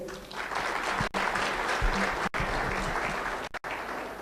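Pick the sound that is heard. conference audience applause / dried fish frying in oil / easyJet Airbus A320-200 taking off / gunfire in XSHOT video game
conference audience applause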